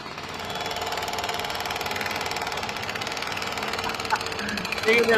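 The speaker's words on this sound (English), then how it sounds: "Oh, listen to those jackhammers." Jackhammers break pavement at Black Lives Matter Plaza with a continuous, rapid, grinding clatter that stays loud and dense throughout.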